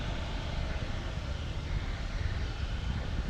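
An Atlas V 551 rocket roars at a steady, dense and loud level during its launch, a broad, unbroken rumble with no voices.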